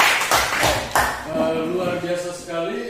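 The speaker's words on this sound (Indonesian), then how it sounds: "Oke, silakan berikan tepuk tangan untuk mereka." A classroom of students claps for group 3 after their discussion: a short burst of scattered hand claps at the start, quickly giving way to a teacher's voice speaking.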